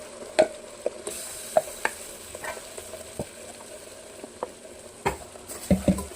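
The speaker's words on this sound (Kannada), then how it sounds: "ಈಗ ಇದಕ್ಕೆ ಗ್ರೈಂಡ್ ಮಾಡಿದಂಥ ಪೇಸ್ಟ್ ಇದೆಯಲ್ಲ ಅದನ್ನು ಹಾಕ್ಕೊಳ್ತಾ ಇದ್ದೀನಿ ನಾನು" Ground masala paste for veg pulao sizzling and frying in a pan, with scattered stirring clinks and taps against a steady low hiss, fairly quiet and without talk.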